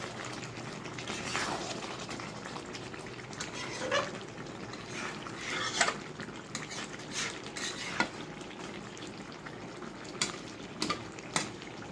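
Potatoes stirred into chicken biryani in a pot, a spoon scraping and clinking against the metal at irregular intervals over a soft steady sizzle, close and moderately loud, with no talking.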